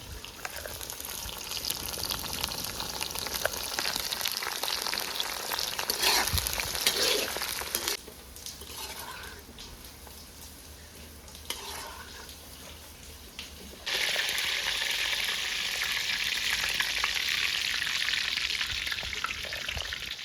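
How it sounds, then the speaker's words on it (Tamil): Cauliflower pakoda fry in hot oil with a dense, continuous sizzle, close and loud throughout. The crackle dips briefly midway and then swells again, with no voices. "ரெடியாக வந்து காலிஃப்ளவர் அழகாக பொரிஞ்சிடுச்சு"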